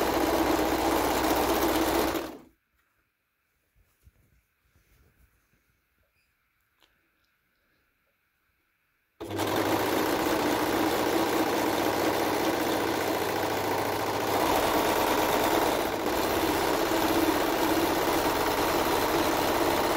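A sewing machine stitches a waterproof zipped pouch in loud, steady runs: one long burst, a silent pause of several seconds, then a sustained close whir to the end.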